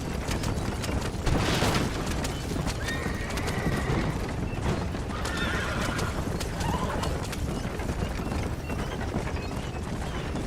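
Horse whinnies and steady clip-clopping hooves in the Red Dead Redemption video game on PS3, with a loud neigh near the start over continuous galloping and background game noise.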